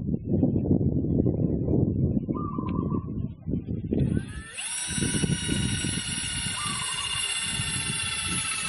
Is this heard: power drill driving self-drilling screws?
yes